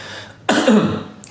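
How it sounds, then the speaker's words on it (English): A single short, rough throat clearing sounds close and fairly loud, followed by a faint breathy trailing noise. "I have to clear my throat for this one."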